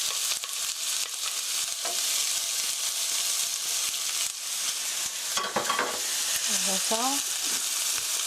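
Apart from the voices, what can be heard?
onion and garlic stir-frying in a pan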